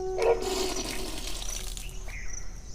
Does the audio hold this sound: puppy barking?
no